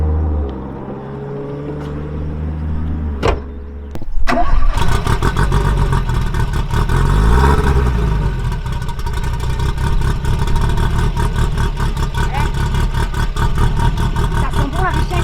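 A Renault R5 Turbo 2 engine cranks and fires up, then settles into a loud, rough idle with blips of revving. Clattery mechanical texture runs under the engine roar throughout.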